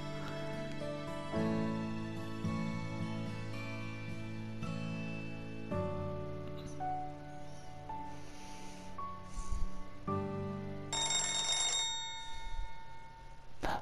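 A phone rings in the game Destiny Connect, a bright electronic ringtone playing a stepped melodic pattern in repeated bursts over a soft game backdrop, with no talking.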